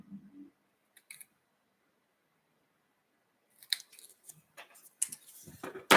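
Scissors snip through paper while trimming a decorative mask, a few sharp isolated cuts near the start and then a busier run of close, crisp snips and paper rustles toward the end.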